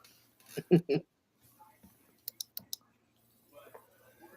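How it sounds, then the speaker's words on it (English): A computer keyboard is typed on in a nearby room: after a brief murmured voice, four quick, faint clicks land close together, followed by soft low background noise. "in there typing her ass off. I can hear it."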